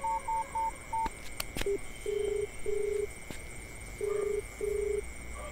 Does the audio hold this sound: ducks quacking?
no